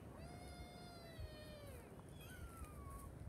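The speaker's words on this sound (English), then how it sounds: "Look at that big cat." A cat meows faintly, with a long drawn call followed by a second shorter one, set against a steady hiss and low rumble of background noise in a shed with kittens.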